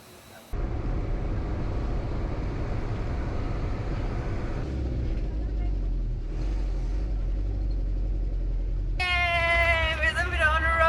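A car driving on the road in Honduras after an engine repair, a steady, close interior engine rumble and road noise that carries on throughout, with a brief high squeal near the end.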